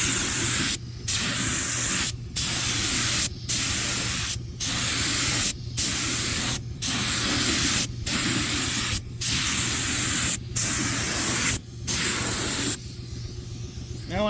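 Continuous loud hiss of spray paint being applied to old parts, broken into about ten bursts separated by short pauses as the nozzle is released, close to the listener.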